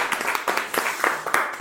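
A small audience claps at an evening reading event, a burst of scattered, uneven hand claps from several people nearby, loose and irregular rather than a steady roar, lasting under two seconds.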